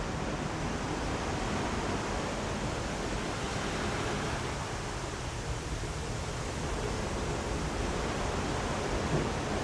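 Ocean waves from a cruise ship balcony on the Carnival Splendor at sunset make a steady, broad wash of surf and wind that stays even and continuous, with no voices.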